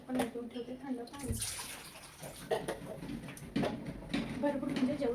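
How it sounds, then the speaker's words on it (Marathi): Cold water poured into a container already holding ice cubes, giving a splashing, gurgling pour in a couple of bursts, close and moderate, while someone talks over it. "आणि याच्यात पण टाकून ठेवते थंड पाणी"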